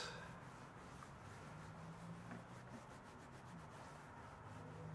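A clothes iron set to synthetics glides over waxed canvas, remelting the wax with a steady, soft rubbing hiss that runs continuously at close range with no talk.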